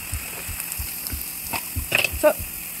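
Ginger garlic paste sizzles softly in a hot pan, a low steady crackle with a few brighter spatters near the end.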